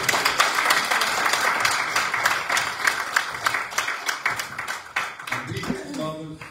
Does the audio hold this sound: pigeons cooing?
no